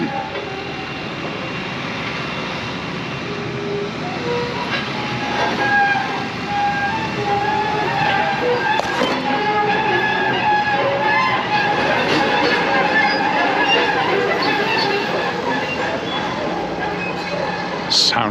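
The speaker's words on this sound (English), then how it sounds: "now I can hear machinery starting and I can actually see workmen." Construction machinery working at a hospital site in Mallorca, a continuous broad rumble and clatter of engines and mechanical noise from a distance, with occasional clanks and a steady outdoor background.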